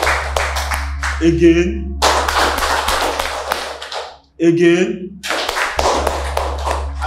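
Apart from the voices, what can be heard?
round of applause, clapping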